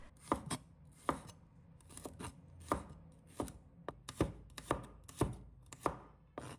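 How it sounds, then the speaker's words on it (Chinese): A knife slices garlic cloves on a cutting board in a quick, fairly regular series of close, crisp chopping knocks, with quiet pauses between and no talking. "再准备一把大蒜，一块生姜，把大蒜切成片"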